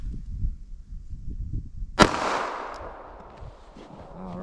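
.380 ACP pistol shot into ballistic gel, a single sharp loud crack that rings out briefly and decays over a second or so against quiet outdoor background.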